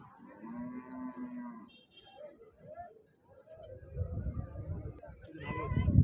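A large pregnant cow moos with a long, low, drawn-out call at a cattle market, followed by quieter rumbling and another lower moo building near the end, close by.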